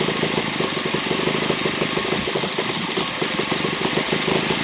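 An OS FT 120 Gemini first-generation model engine, used and uncleaned, idles at very low speed with a steady close buzzing drone and slight unevenness, running alone without talk.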